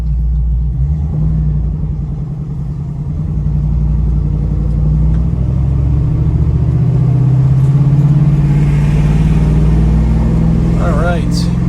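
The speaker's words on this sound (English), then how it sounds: "And now we're gonna go for a test drive." A 1966 Ford Mustang resto-mod out on a test drive, its engine a steady low rumble throughout with road noise, plus faint voices in the cabin.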